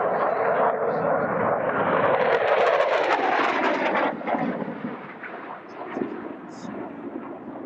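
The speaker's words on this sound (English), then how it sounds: "out at Air Show Center on the runway, coming down is Mr. Dean Martin from Burlington, Vermont with the MiG-17 Fresco" A MiG-17 Fresco jet sweeps low down the runway at a military air show, a loud broad engine roar that swells and then fades as it passes, with crowd noise underneath.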